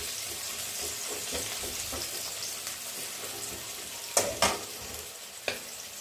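Onion and garlic fry in hot oil for a dal tempering, giving a steady close sizzle, with a few sharp clatters of stirring near the end.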